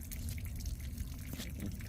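Water drips inside a bus that is being worked on, the faint drops falling irregularly over a steady low rumble of background noise.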